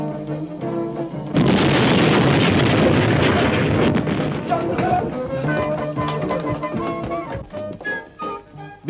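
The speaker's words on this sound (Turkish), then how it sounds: "Bizim bakkalın lokumu bozuldu canım. Olur olmaz yerde patlıyor." A loud boom bursts in from a quiet start in a comedy film scene, a sudden explosion blamed on spoiled Turkish delight, followed by rumbling debris and clattering noise that slowly fades with voices and scattered sounds.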